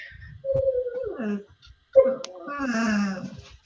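A person imitates an unhappy dog during a tabletop role-playing game session, giving two drawn-out whining whimpers close to the microphone with a short gap between them.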